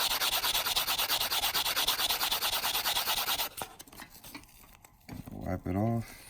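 Finer-grit sandpaper rubs against a 1954 silver quarter being shaped into a ring, making a steady, close, dense rasping that stops after a few seconds. Quiet handling noises follow, then a voice speaks near the end.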